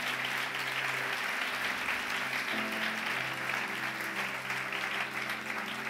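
A church congregation breaks into loud, sustained applause during a Spanish-language sermon, a dense, even wash of clapping with a low hum beneath it.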